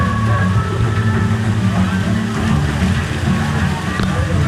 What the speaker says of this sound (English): you raise your hand and the water comes and touches you